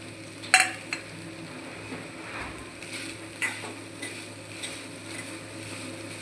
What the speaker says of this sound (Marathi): आता आपण ह्यामध्ये कोथिंबीर घालून अजून एकदा आपण हलवून घेऊया।